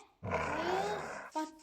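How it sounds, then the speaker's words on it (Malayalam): A dog in the video game Minecraft growls in one close, sustained rumble that ends with a short yelp-like sound. "പട്ടി എന്നെ കടിക്കാൻ വരുന്നു"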